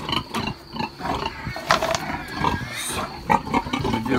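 Pigs and piglets squeal and grunt inside a pig barn during farrowing, a busy overlapping chorus of shrill cries and snorts at close range with no talking.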